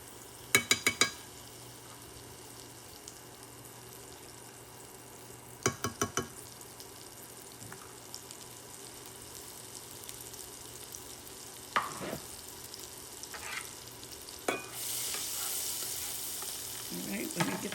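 A very hot skillet for garlic butter shrimp gives off faint sizzling, broken by a few quick utensil clatters and a louder hiss that builds toward the end.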